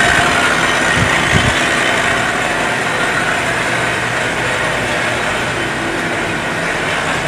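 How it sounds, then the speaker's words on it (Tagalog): A polar machine for making cloth runs steadily, a loud, continuous mechanical roar with a dense rumble throughout and no pauses, no voices over it. "Ang tawag po ng makina na yan ay polar machine. Yan pong makina nga gumagawa ng cloth o tila."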